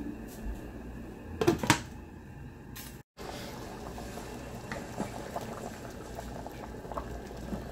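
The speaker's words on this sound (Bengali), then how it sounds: "আমরা 2 মগ গরম পানি দেব, দিয়ে এটাকে একটু পুরোপুরি সিদ্ধ করে নেওয়ার জন্য, দিয়ে আমরা ঢেকে দিব" Chana dal and beef liver simmer in a covered pot after two mugs of hot water are added: a few clattering knocks, a brief break, then a steady, muffled bubbling boil heard close, with no talking.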